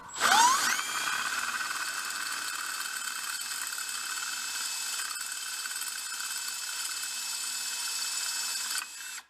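A power drill runs steadily for about eight seconds, boring into a metal part during a Bobcat UTV transmission rebuild, with a high whining tone that starts up sharply and cuts off at the end, close and alone.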